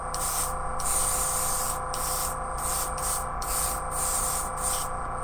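An airbrush spraying candy metallic paint thinned with lacquer thinner onto a scale model kit, a loud close hiss running in repeated short bursts with brief dips between them over a constant compressor hum.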